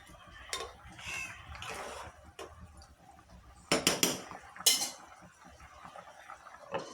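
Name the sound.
stirring beef curry in a cooking pot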